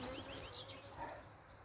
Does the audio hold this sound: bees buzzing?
yes